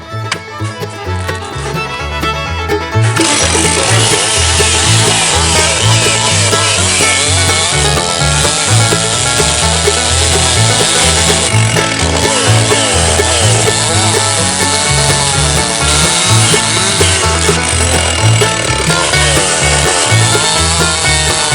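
A loud chainsaw cutting firewood roars continuously for a long stretch, its engine pitch wavering as it cuts, with low thumping underneath.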